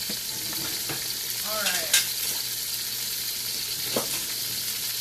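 Zucchini sizzling in a hot wok, a steady close frying hiss with a few scraping stirs and a brief spoken word over it.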